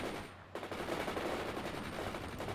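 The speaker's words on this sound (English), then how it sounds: "They're under fire. They're engaging us." Machine gun fire in the World in Conflict video game: a dense, loud, continuous stream of rapid shots after a brief lull, with no talk over it.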